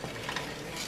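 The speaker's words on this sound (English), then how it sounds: "I'm doing a continuous stir, but look how thick it's getting" Praline pecan candy being stirred continuously in a pot on a stovetop at medium heat, a steady soft scraping and sizzling texture that runs unbroken for under a second, close and fairly quiet.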